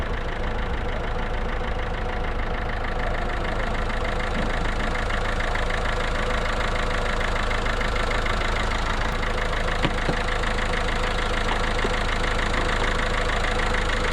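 A Ford 4010 tractor engine idles close by with a steady, rough diesel rumble and a regular knocking pulse, running unchanged throughout with no talk over it.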